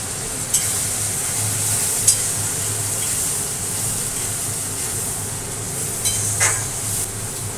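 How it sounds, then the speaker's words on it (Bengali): Spice powder goes into a pan of onion, ginger and garlic already fried in oil, producing a continuous hissing sizzle with a few sharp clicks and taps, steady in loudness and free of talk. "এখন দিয়ে দিচ্ছি হচ্ছে এই মশলাটা"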